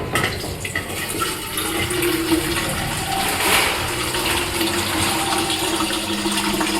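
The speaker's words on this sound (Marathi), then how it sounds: "ह्याच्यातनं तुम्ही वेस्टेज पाणी काढू शकता." Waste water drains from the tap of a bain marie in a kitchen, a steady rushing, splashing stream that runs continuously throughout, fairly loud and close.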